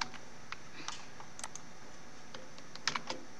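Scattered clicks of someone typing on a computer keyboard, with separate keystrokes spread unevenly over a few seconds and a short burst near the end, close by in a quiet room.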